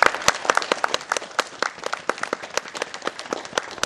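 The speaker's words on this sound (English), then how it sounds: "So a round of applause to you." A small audience at a fire station community gathering applauds, with distinct, close individual claps forming an uneven, rhythmic patter rather than a dense roar, lasting a few seconds.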